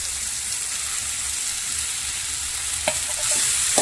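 Cooked rice for veg fried rice stirred and tossed in a hot pan, a continuous close sizzle with a few sharp scraping clinks of the spatula near the end, no voices.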